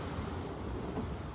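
Wind gusting across the open deck of the NCL Breakaway cruise ship docked at Halifax, a loud, steady roar buffeting the microphone with no voices over it.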